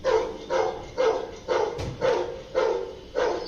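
A dog barks seven times in an even, steady rhythm, each bark loud and close.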